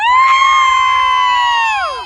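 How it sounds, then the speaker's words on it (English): A Leeds Road Festival audience in Bradford Moor Park gives a loud, drawn-out cheer that holds steady for nearly two seconds before trailing downward at the end. "Give me a cheer for Leeds Road Festival"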